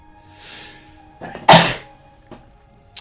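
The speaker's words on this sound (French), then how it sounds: "je peux éternuer à tout moment" A single sharp, loud sneeze burst from a person, preceded by a soft breathy intake and followed by a couple of faint clicks in a quiet room.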